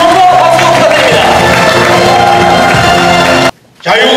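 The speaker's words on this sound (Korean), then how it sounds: "우리 자유민주당을 위해서 힘찬 함성과 박수 부탁드립니다." Loud rally crowd at a Liberal Democratic Party (자유민주당) event in Busan, shouting and cheering in a dense, continuous roar with voices mixed in, cutting off abruptly near the end before rising again.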